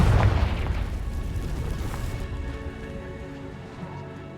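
A Confringo spell explosion in the video game Hogwarts Legacy: a heavy booming blast that hits at once, then rumbles and crackles away into a fading tail.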